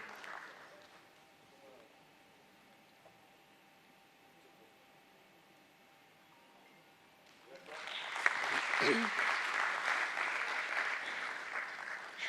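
Applause breaks out at a stock exchange listing ceremony for Suyog Gurubaxani Funicular Ropeways Limited, beginning after a long quiet stretch and building into a sustained, fairly loud round from a gathered audience.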